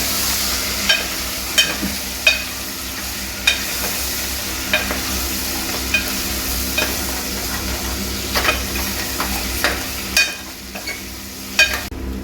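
Chicken feet sizzle steadily in hot oil with turmeric for a curry, with a continuous frying hiss broken by frequent sharp scraping stirs of a spoon against the pan, and no talking.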